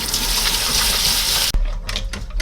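Tap water runs in a loud, steady gush while kelp is scrubbed under it with a toothbrush, then cuts off abruptly partway through, leaving faint handling sounds.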